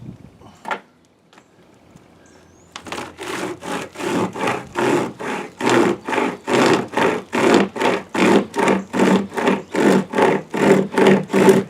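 A compact camp saw cutting through wood: steady, rhythmic back-and-forth rasping strokes, loud and close, about two strokes per second after a brief quiet start with a few knocks.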